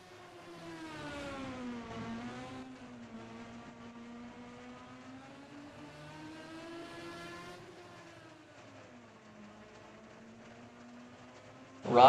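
#44 Valvoline race car in a practice session on track, its engine whining through rising and falling revs at moderate distance, a steady drone with gear shifts, ending in a sudden loud burst.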